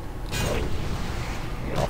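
Warrior slam attacks in a video game: a pair of short, hard metallic hits roughly a second and a half apart over a dense, steady bed of combat noise.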